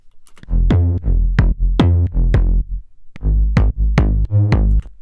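A deep slap house synth bass with Serum's sub-oscillator added plays a rhythmic pattern of sustained notes with a heavy low-end sub layer, loud and up close with no voices.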